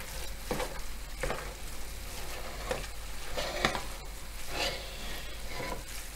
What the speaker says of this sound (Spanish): Y vamos mezclando